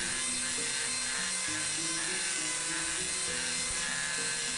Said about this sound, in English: just so you don't have to watch me Dremel holes all day long